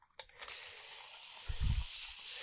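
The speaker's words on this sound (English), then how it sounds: "All right, we're going to spray this." A spray can sprays paint onto a wooden Easter sign in a long, steady close hiss after a few quick rattling taps, with a soft low thump partway through.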